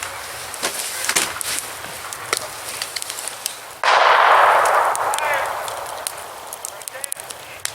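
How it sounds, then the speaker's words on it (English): Sharp gunshots crack at a distance from people driving around shooting near a winter campsite, scattered single reports with a louder burst midway, while people talk nearby. "They're like driving around shooting."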